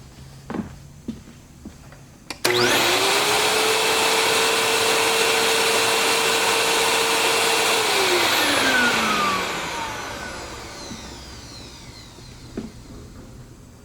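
A Prolux upright vacuum cleaner with a brush roll that is not spinning switches on with a click and roars steadily for several seconds, then winds down as the motor is shut off, followed by light clatter.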